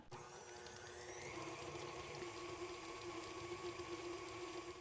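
A stand mixer with a paddle attachment churning cream cheese for a chipotle cheese ball, a steady whirring motor hum with a faint rhythmic slap, quiet and continuous with no talking.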